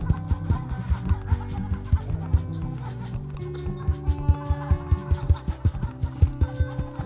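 Cartoon chickens clucking in the mobile farming game Egg, Inc., short rhythmic bursts repeating steadily over a faint game tune, with no voices on top.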